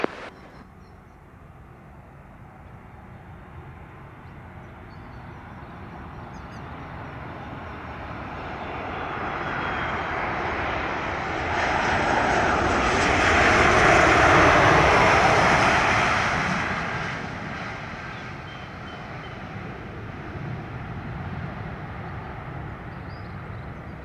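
A jet airliner lands on runway 25 at Montego Bay, Jamaica, its engine roar building from a distance to a loud close pass in the middle before easing off into a sustained rumble.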